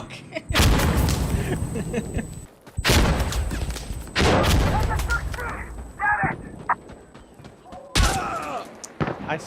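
Loud blasts and gunfire bursts erupt in a tense firefight in the video game Insurgency: Sandstorm, booming hits spread across the clip under excited shouting from players.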